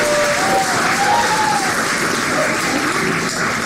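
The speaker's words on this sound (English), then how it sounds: "So please give a round of applause for the Educational Federal Credit Union" Loud, sustained applause from the audience at a civic knowledge bowl competition, a thick rain-like roar of many hands clapping evenly throughout, with a voice briefly rising above it early on.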